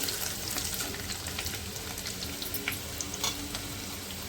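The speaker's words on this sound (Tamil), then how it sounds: "காஞ்ச மிளகா போட்டுட்டு பூண்டு சேர்த்துக்கோங்க பூண்டு சேர்த்துட்டு" Dried red chillies and garlic fry in a pan for a guava leaf stir-fry, giving a loud, continuous close sizzle with occasional stirring scrapes and no talking.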